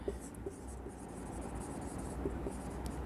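A pen scratches across paper while an accounting journal entry is written, soft continuous scribbling with small taps, close and quiet, alone without talk.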